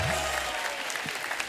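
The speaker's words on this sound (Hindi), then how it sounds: "जोरदार तालियां मैम के लिए।" A television comedy show's studio audience breaks into loud, dense applause that fades slightly over a second and a half, with a host's voice briefly heard over it.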